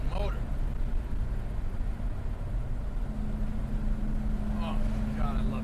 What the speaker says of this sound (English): God, listen to that freaking motor.